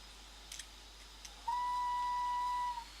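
A G2 steam locomotive whistle in a train simulator game on the Settle to Carlisle line: one sustained, clear steady tone lasting over a second, loud against a quiet rumbling background, after a couple of faint clicks.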